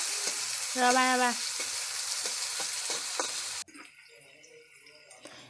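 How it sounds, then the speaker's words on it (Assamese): Jackfruit and pork curry fries in a pan and is stirred, giving a steady sizzle with spatula scrapes. A brief voice is heard near the start, and the sizzle drops sharply to a quieter level partway through. "অলপ লৰচৰ কৰি লৈছে।"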